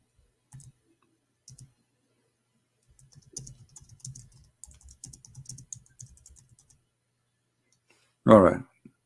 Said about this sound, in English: there's a delay in typing for some reason in this software